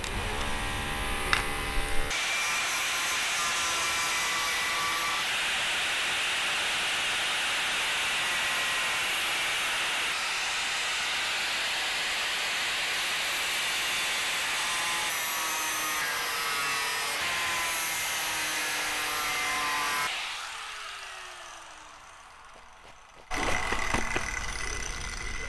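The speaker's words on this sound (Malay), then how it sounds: "jadi kita potong pakai grinder" An angle grinder cuts through a car body with a loud, steady, high-pitched abrasive whine that holds for about twenty seconds, then winds down and stops before starting up again briefly.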